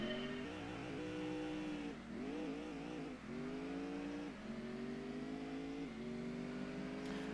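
Muscle car engine in Gran Turismo 2 revving hard through the gears, each climb in pitch cut by a brief dip at the shift, loud and steady from start to end.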